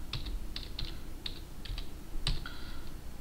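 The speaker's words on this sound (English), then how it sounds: "you enter the directory and you type in" Close computer keyboard typing a command, a quick irregular string of crisp key clicks lasting a few seconds with no talk.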